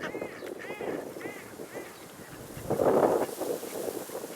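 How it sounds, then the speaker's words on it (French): Mallard ducks quack in a series of nasal, repeated calls near an industrial and commercial zone at La Teste, fairly close, with wind rumble and background noise and no talk. "nous avons des canards colverts"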